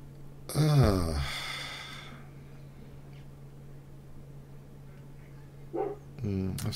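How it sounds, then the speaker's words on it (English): A dog barks a few times nearby, a loud burst at the start and another pair near the end, with a steady background hum in between. "I'm gonna have to blame the dog barking."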